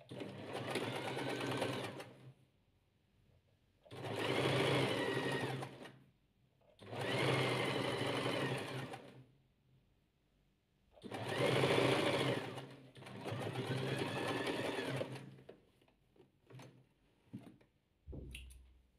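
A sewing machine stitches patchwork fabric in five long, loud runs of rapid mechanical whirring, separated by short pauses and a few small clicks near the end.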